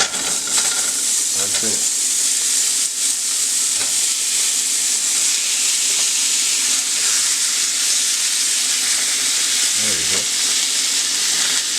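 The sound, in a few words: Polish sausages frying in a skillet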